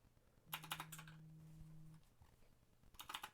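A search is typed on a computer keyboard, a quick burst of close, soft key clicks, then a pause and a second short flurry of keystrokes, with no voices.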